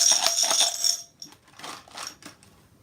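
Hard sour ball candies rattling and clinking, a dense burst of bright clatter followed by a few sparser clicks, close and with no voices.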